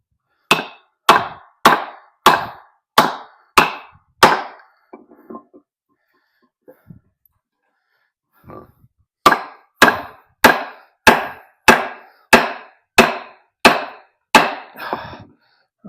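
A DC53 steel drop point hunter knife strikes into wood in two sharp, evenly spaced runs of loud thwacks, about seven blows each, separated by a quiet pause with a few soft knocks.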